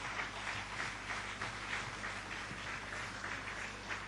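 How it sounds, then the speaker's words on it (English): Steady applause from an audience at a corporate HR summit, a faint, even wash of many hands clapping that holds throughout with no voices over it. "Keep on applauding for Mr. R.K. Rastogi, Executive Director"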